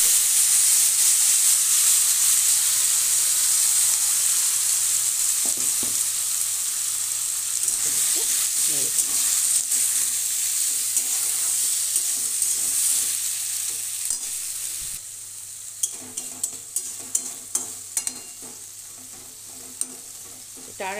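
Mourola fish tipped into hot oil tempered with black cumin, frying with a loud continuous sizzle and hiss that softens over time, followed by scattered clicks and taps near the end.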